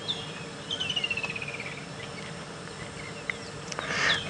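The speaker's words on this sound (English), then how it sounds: "Listen to that very, very harsh call." A lilac-breasted roller on an African safari gives a harsh, descending rasping call, followed by a few faint scattered chirps amid quiet outdoor ambience.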